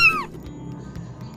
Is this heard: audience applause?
no